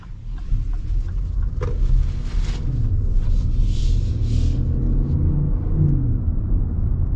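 A 2025 Lexus RX 500h hybrid drives in EV mode, giving a steady low cabin rumble of road and tire noise with a faint synthetic whir and no talk.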